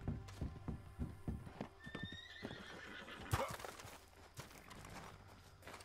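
Rhythmic clip-clop of hooves in the video game Red Dead Redemption 2, then a horse neighs loudly midway before the hooves carry on at a slower pace.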